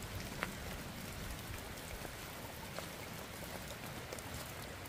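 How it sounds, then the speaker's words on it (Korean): Steady rain falls outdoors in the countryside, a dense even hiss with scattered drops ticking on nearby surfaces, soft and continuous with no voices. "비 홀딱 지금 맞고 있습니다. 비 잘 온다."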